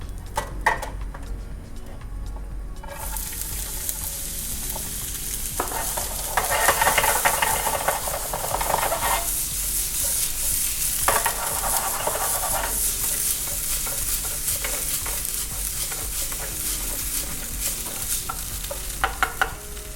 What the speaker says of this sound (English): I'm going to saute onion and the garlic